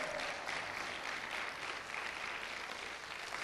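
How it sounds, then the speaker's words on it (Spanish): Church congregation applauding the Lord during a Spanish-language sermon on prayer, a steady, dense wash of clapping that holds evenly from start to finish with no speech over it. "denle un aplauso al Señor por eso"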